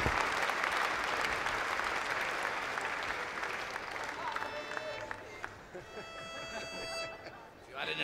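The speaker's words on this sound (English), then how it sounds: "Great clapping." Festival crowd applauding a folk quartet at an outdoor folk festival in Shrewsbury, a dense roar of clapping that gradually thins and fades, with a few voices and light instrument sounds emerging as it dies down.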